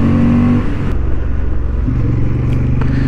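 A Honda Hornet 750 motorcycle on a racing track, its engine a loud, steady, low droning hum with a shift in pitch partway through, heard close as if from on board, with no speech.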